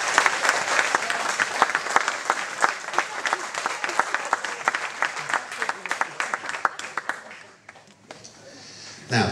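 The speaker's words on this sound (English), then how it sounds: "give each other a massive round of applause now, please" A party audience at a retirement celebration breaks into sustained applause, dense clapping from many hands holding steady for several seconds before thinning out and fading near the end.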